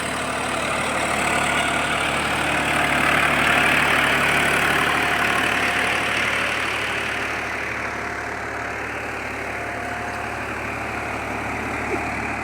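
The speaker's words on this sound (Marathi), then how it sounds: "आला ट्रॅक्टर." A John Deere 5405 4x4 tractor idles in a wet field, giving a steady, mid-loud diesel drone that swells slightly and then settles. No voices are heard.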